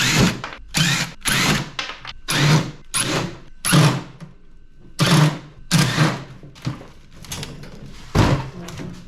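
A power drill driving screws in a garage, sounding in a steady series of short whirring bursts, roughly a dozen close pulses with brief gaps between them.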